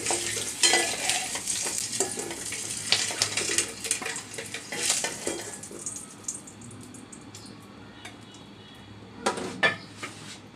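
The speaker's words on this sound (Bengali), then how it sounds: "ডিমটা আমি লাল লাল করে একটু বেজে নিব" Egg fries in oil in a pan with a pinch of turmeric for an egg curry, a close crackling sizzle with scraping stir strokes that fades to quieter frying, then a short clatter near the end.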